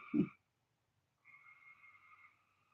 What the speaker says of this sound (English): Those are frogs outside and crickets.